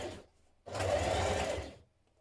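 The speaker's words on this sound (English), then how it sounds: "I'm just top stitching down the side of that zip and through all thicknesses now." A sewing machine runs a short burst of top stitching alongside a trouser zip through several fabric thicknesses, a close, steady whirring lasting about a second after a brief earlier run.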